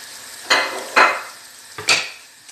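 Onions, parsley, coriander and spices stirred in a frying pan, with a low sizzle under three distinct scraping strokes of a utensil against the pan, close and moderately loud, no talking.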